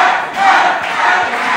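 A hot wrestling crowd roars and cheers continuously at an independent wrestling show, loud and sustained, swelling and dipping slightly without pause.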